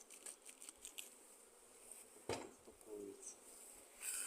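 A large, strong honeybee swarm being worked at the hive outdoors after rain, giving a steady faint insect buzz with scattered clicks and a sharp knock midway, no talk over it.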